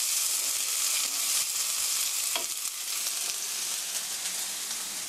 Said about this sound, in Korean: 이렇게 해서 stir fry 2 minute, 2분 정도 볶아주세요